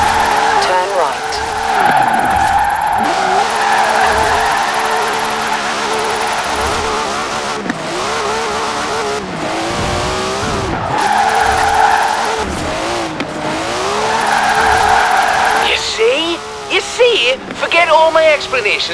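A car drifting in Forza Horizon 4, tires squealing in long sustained wails that rise and fall with the engine's revving, loud and close, broken by brief gaps between slides.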